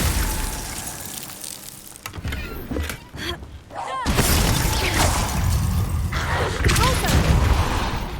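An ice spell cast in the video game Hogwarts Legacy, a loud crackling, shattering burst that swells after a brief lull and rings on over background game sound.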